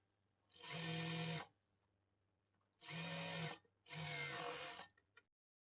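A sewing machine stitches a blouse lining in three bursts of steady, close whirring, and a short pause separates each burst.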